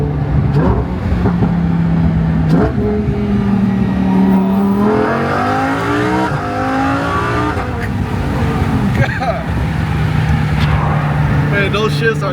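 All-wheel-drive Lamborghini Huracan Evo accelerating hard in Corsa drive mode, heard from inside. The engine climbs in pitch through several rising sweeps, each broken by an abrupt, aggressive gearshift, loud and continuous, with occasional talk over it.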